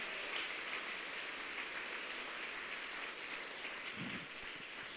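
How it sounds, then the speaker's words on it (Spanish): A church congregation claps for the Lord during a Spanish-language sermon, a soft, steady wash of applause heard faintly from a distance with no voices over it. "Dele un aplauso al Señor"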